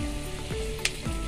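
Peanuts, chana dal and dried red chillies frying in hot oil for tamarind rice, a steady close sizzle with soft stirring clinks.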